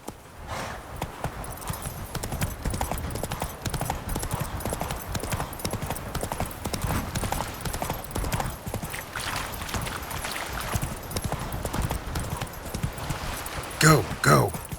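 A horse gallops in The Witcher 3 video game, its hooves clip-clopping in a steady, rapid rhythm through dense surrounding game noise, with a louder flurry near the end.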